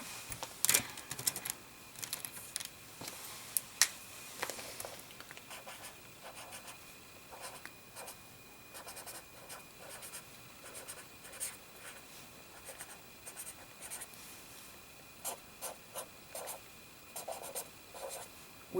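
A pen scratching across journal paper, close and quiet, in irregular bursts of strokes with short pauses between, no talking.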